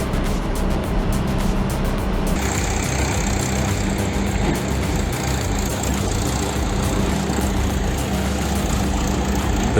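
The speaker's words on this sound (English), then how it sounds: "Its engine roars non-stop, creating a striking scene as the cane lines up perfectly" A tripler tractor unloading sugarcane runs its engine in a continuous loud low roar, close and unbroken, with some mechanical clatter on top and no talking.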